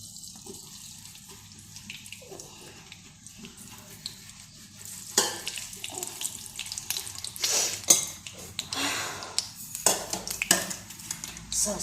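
Mustard seeds drop into hot oil in a pan, starting quiet and then breaking into a busy crackling sizzle with sharp pops and a few utensil clinks, close and fairly loud.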